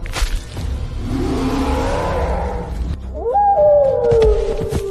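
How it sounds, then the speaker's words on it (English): A wolf howls, loud and close, in a long rising and falling wail after a rushing whoosh, then a second higher howl slides downward and fades. "The wolf screamed, collapsed,"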